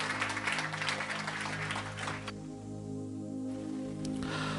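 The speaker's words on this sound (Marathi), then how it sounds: "म्हणून जरा आम्ही जोरदार टाळ्या प्रभूच्या गौरवासाठी" A church congregation at a Marathi sermon bursts into hearty clapping, dense and fairly close, over soft sustained music; the applause fades midway, then swells again near the end.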